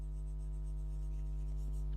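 Marker or chalk scratching across a classroom board during a lecture, a faint soft stroke set against a steady electrical hum.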